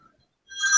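A mobile phone ringtone starts after a half-second of near silence, a bright tonal electronic ring rising quickly in loudness and ringing steadily near the close of the clip, no voices.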